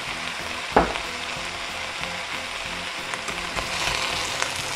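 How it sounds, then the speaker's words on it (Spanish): Jalapeño chiles fry in a pan with oregano, bay leaf and cloves, giving a steady close sizzle with a brief clink early on as the pan is stirred. "vamos a dejar aquí unos 10 minutitos que se estén friendo"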